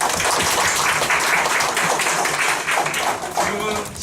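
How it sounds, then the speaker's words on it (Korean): A live audience at a university lecture event claps together for several seconds, a dense, steady patter of hands filling the room from start to finish. "일단 박수 한번."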